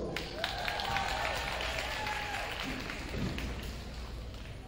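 Faint, distant applause from a high school class night audience, a soft steady patter of clapping with some tonal background sound and room noise throughout.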